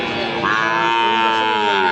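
A Sahiwal bull calf at the Ambari cattle market gives a loud, close, drawn-out moo that rises and holds for nearly two seconds.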